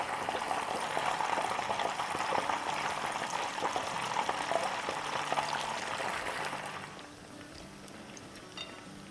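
Second batch of chicken pieces frying in hot oil, a loud, steady bubbling sizzle that suddenly quiets to a softer crackle near the end.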